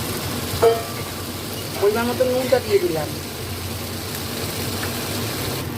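A cashew, white sesame and yogurt paste sautés in oil, giving a low continuous sizzle and stir under a speaking voice, with a few brief louder stirs in the middle.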